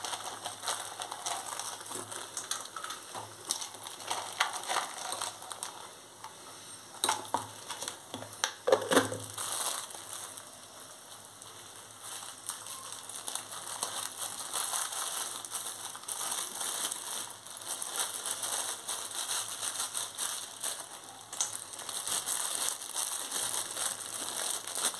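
Raisins and cashews being stirred into a pot of Bengali basanti pulao, giving a steady, close scraping and crunching of a spoon through the rice that keeps up throughout without pause.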